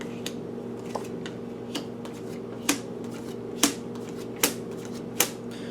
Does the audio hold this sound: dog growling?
no